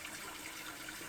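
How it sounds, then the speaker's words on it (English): Tap water runs steadily into a kitchen sink to rinse out an emptied tuna can, a soft, even hiss with no talking. "you're just gonna rinse it out in the sink"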